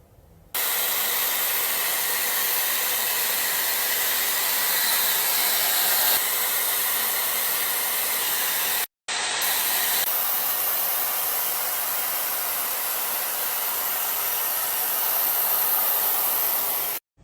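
A hair dryer blows on hair in a steady loud rush of air, running continuously, cutting out for a moment near the middle, then resuming at the same level; no one speaks.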